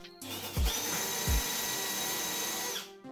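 A power tool wheel grinds uncured seam sealer off an unpainted car quarter panel, a loud continuous whine of about two and a half seconds with two low thumps near the start, no voices.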